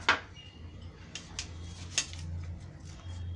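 Sprouted green gram salad with peanuts and cashews gets mixed in a bowl, with a few light clinks of spoon against dish and soft scraping, close and fairly quiet.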